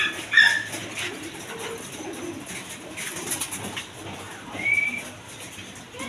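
Racing pigeons cooing, with soft low coos and a few brief whistled notes over a quiet background of ambient noise, without talk.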